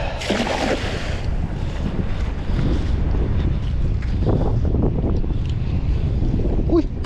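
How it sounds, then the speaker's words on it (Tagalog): Gusty wind buffets the microphone in a steady low roar while fishing from a boat, with water and boat noise underneath and a few faint voices. "Medyo mahangin na mga toto."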